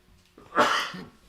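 A single close, sharp sneeze, short and loud with a brief intake before it, heard on its own.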